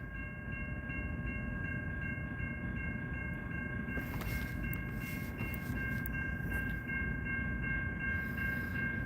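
A train rolling slowly along a rail track, a steady low rumble with a constant tonal hum and occasional soft metallic clanks and squeals, close and continuous, no talking.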